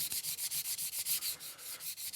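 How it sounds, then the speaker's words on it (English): Fine sandpaper rubs lightly over a wooden guitar fretboard in quick, steady back-and-forth strokes, soft and close. "So I'm just lightly sanding,"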